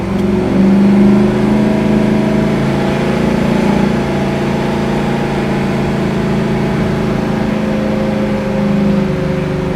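A 1970 Chevrolet Nova's engine pulls steadily under light throttle while driving, a loud, continuous mid-pitched drone with road rumble and no voices.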